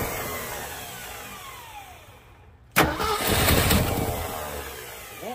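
A 1966 Ford F100 engine cranks over with its starter, a loud, close, labored churning that follows a brief quiet and continues without catching.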